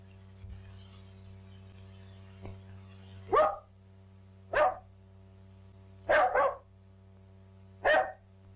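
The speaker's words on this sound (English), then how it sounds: "Here's that bark again." A dog barks behind a door inside a house in an old radio drama, four sharp barks spaced a second or more apart, the third a double, over steady low broadcast hum.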